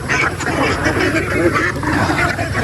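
Domestic ducks quack close by on a muddy farm where they dabble in the mud, their loud calls overlapping continuously while a person talks over them.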